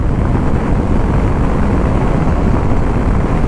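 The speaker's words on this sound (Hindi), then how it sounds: "बहुत दिनों के बाद 100 पे भाग रही है बाइक" A motorcycle cruising at about 100 km/h on a mountain road toward Spiti gives a loud, steady roar of engine and wind rush that fills the whole stretch without a break.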